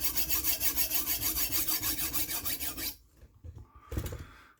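A kitchen knife sharpened on a stone, about twenty quick, even rasping strokes in a steady back-and-forth rhythm, then a pause followed by a few lighter scrapes and one final stroke, close and clear with no talking.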